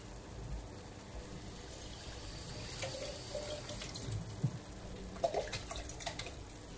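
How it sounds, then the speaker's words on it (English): Tap water running into a nearly empty sauce jar in a kitchen, a quiet steady stream with faint splashing and a few sharper drips and glugs toward the end. "I'm going to top it up with a bit of water"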